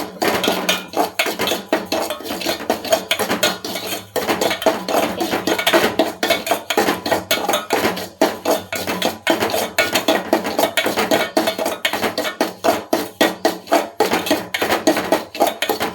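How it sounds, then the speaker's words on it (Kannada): Semolina (rava) is stirred as it roasts in ghee in a pan for kesari bath, with a constant rapid scraping and clinking of a metal spoon against the pan, loud, close and uninterrupted, with no voices. "ಚೆನ್ನಾಗಿ ಹುರ್ಕೊಂಡು ತುಪ್ಪದಲ್ಲಿ ಹುರ್ಕೊಬೇಕು"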